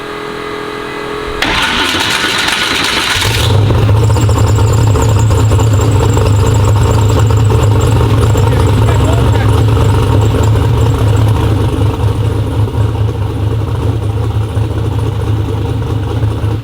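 A 1500hp twin-turbo street car cranks with a short whirring starter, catches and fires into a loud, rough, lumpy idle with occasional revs, close and heavy, continuing steadily to the end.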